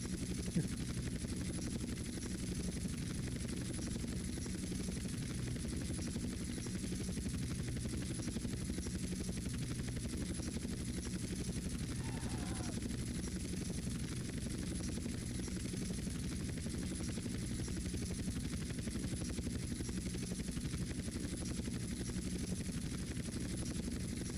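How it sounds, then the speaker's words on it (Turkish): A helicopter in GTA San Andreas flies with a constant, dense rotor and engine drone that holds steady and loud throughout, with no breaks or pauses. "Helikopterle bile zorla gidiyoruz."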